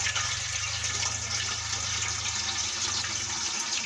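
Muddy water gushes steadily out of a pipe after a valve is opened, a continuous loud rushing flow with no talking.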